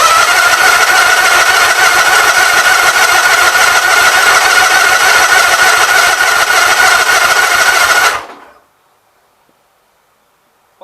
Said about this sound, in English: I'm going to crank it over without the choke on for a little bit here.